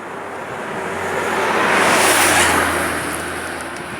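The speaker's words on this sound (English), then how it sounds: "There are some tourist vans passing by." A vehicle, one of the tourist vans on a coastal road near the Indian Ocean, approaches and passes with a broad whooshing rise and fall, swelling to a peak mid-way and then fading.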